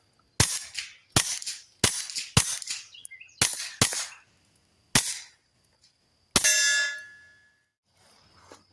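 A Kel-Tec P17 pistol fires Warlock 2 subsonic rounds outdoors: about eight sharp, close, loud pops with irregular spacing, each followed by a short ringing clang, and a longer metallic ring after the last shot; no talking.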